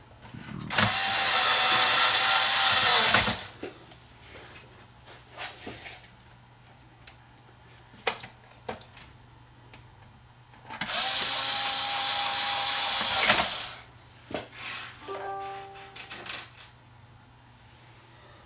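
Power screwdriver driving screws into the back panel of a Denon AVR2307 receiver during repair, two loud sustained whirring bursts of about three seconds each, separated by quieter clicks and handling noise, with a low steady hum underneath.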